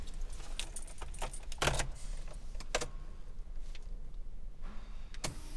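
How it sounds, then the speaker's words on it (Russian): Keys for a Ravon R2 car jangle in several bright metallic bursts inside the vehicle, loud and close, with a quieter cabin background between them and no talking. "Ключ."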